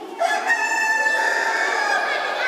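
A rooster crows once in a single long, drawn-out call. It is close and clear and fills the whole moment, with no talk over it.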